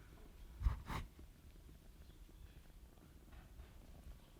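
A cat purrs softly and steadily up close, a low continuous rumble with a couple of slightly louder bursts near the start.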